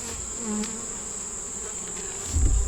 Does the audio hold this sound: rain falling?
no